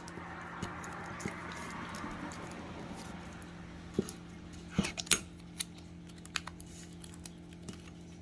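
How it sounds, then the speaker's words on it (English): Tape pressed down by hand to hold a sublimation print onto a mug for a Cricut Mug Press, heard as scattered soft clicks, taps and brief crinkles over a steady low hum, with a small cluster of sharper snaps near the middle. "So we're going to just kind of tape this all down."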